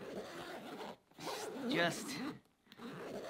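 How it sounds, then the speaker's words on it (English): The zipper on a Shimoda Urban Explorer 25-liter camera bag is pulled open and closed in quick close-up rasps, with brief pauses between strokes and someone speaking softly over it. "Great zip pull, great zip throw, the shape of that."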